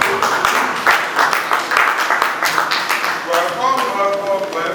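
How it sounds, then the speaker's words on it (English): Audience clapping at the grand finale of a teaching reality TV competition show, a dense patter of hands running throughout, with a voice speaking over the closing second or so. "A round of applause, please."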